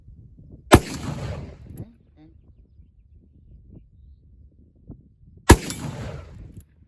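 Two sharp, loud gunshots from a .45 Colt revolver loaded with Hodgdon 777 powder, spaced about five seconds apart, each with a short echoing tail over faint background noise.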